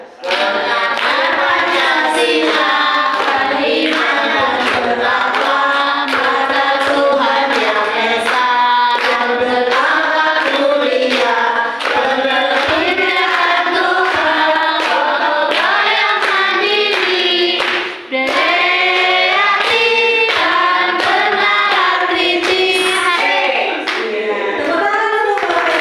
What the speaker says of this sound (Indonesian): Bagaimana kalau kita nyanyikan bersama sambil tepuk ya?